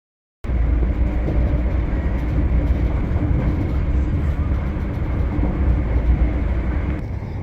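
Steady, loud rumble of a Great Northern Class 379 electric train running, heard from inside the carriage, with broadband rolling noise holding constant throughout.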